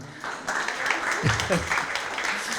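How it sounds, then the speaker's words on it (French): The audience at a French-language fintech and financial-inclusion conference gives a brief round of polite applause. The clapping is moderate and fairly even, with a voice speaking over part of it. "Merci Madame Filali, des applaudissements quand même."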